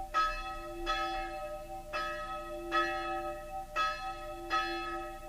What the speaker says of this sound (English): the funeral bell.